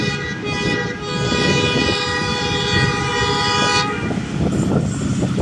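The 10 Down Allama Iqbal Express passes Okara Cantt station in Pakistan, sounding a loud, sustained horn over a heavy rolling rumble. The horn cuts off partway through while the rumble of the passing cars continues.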